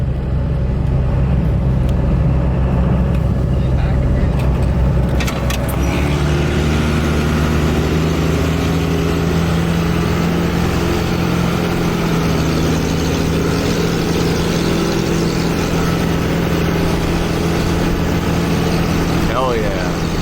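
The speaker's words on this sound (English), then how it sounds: "Power Wagon being pulled by the Cummins" A Cummins-powered truck tows a 1978 Dodge Power Wagon, its low engine rumble steady and close throughout while people talk over it.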